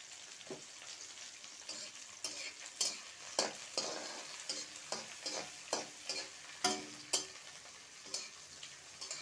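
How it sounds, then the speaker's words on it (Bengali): Chopped onion, green chilli and capsicum sizzle steadily in hot oil in a pan, with a spatula stirring and tapping in a regular rhythm of crisp strokes, close and fairly quiet, no talking. "তেল দিয়ে প্রথমে আমি পেঁয়াজ কুচি, লঙ্কা কুচি আর ক্যাপসিকামগুলো দিয়ে দিচ্ছি।"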